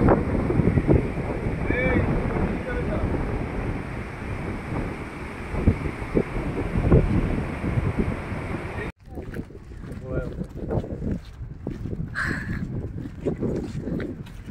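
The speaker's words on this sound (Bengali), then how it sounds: "ও প্রচন্ড হাওয়া দিচ্ছে" Strong mountain wind near Chitkul, India's last village, roars and buffets the microphone continuously, heavy and blustery, with muffled voices faintly mixed underneath.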